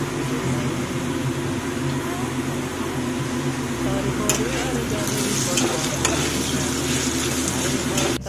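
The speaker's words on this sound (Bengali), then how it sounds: "গরম হয়ে গেছে, এবার আমি এতে আলুগুলো দিয়ে দেব।" Potato pieces seasoned with turmeric and salt fry in hot oil, giving a steady, close sizzle with occasional stirring scrapes and a constant background hum throughout.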